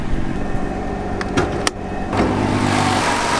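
A Nissan GT-R R35 engine idles steadily with a low rumble, joined by a few sharp metallic knocks and ticks from the front partway through, close by.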